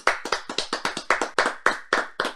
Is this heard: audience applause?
yes